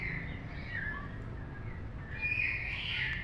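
A hill myna calls a few times over steady low background rumble, giving thin whistled and chirping notes that are moderately loud with no voices.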